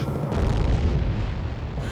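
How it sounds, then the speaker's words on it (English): An Atlas Agena rocket explodes in midair over Cape Canaveral, heard as a sustained, heavy low rumbling roar that fills the whole moment. "It's another huge explosion in the skies over the Cape as an Atlas Agena rocket disintegrates in midair."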